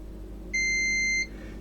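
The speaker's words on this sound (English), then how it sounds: "we check on the capacitor and we hear beep." A single short electronic beep from a multimeter testing a capacitor on a PS5 with no power, clear and high-pitched, lasting under a second against a quiet background hum.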